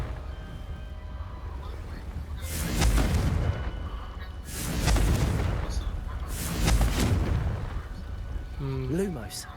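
Confringo spell blasts in the Hogwarts Legacy video game, three booming bursts that swell and fade over several seconds each, loud against a low rumbling background, with a brief chirping effect near the end.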